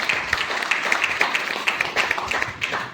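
An indoor audience clapping together at a talk, steady dense applause with many overlapping claps, moderately loud and continuous for the whole stretch.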